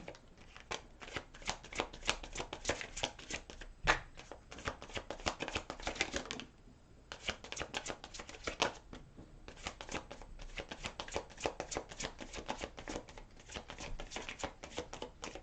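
A deck of tarot cards shuffled by hand, a rapid stream of soft riffling flicks up close and quiet, running almost continuously with a couple of brief pauses between passes.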